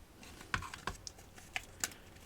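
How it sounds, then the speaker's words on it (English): The plastic case of a Toshiba RT-P33 Walkman is gently jiggled apart, giving a few faint, close, sharp plastic clicks and ticks scattered irregularly over quiet handling noise. "You just kind of got to keep gently jiggling till something gives"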